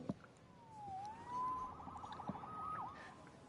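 Police siren in a video game wailing with rising and falling sweeps, a steady moderate tone that holds for several seconds with no talk over it.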